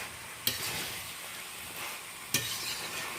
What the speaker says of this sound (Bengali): জিরে গুঁড়ো ধনে গুঁড়ো আর লঙ্কা গুঁড়ো ভালো করে মিশিয়ে নিচ্ছি এইভাবে কষাতে কষাতে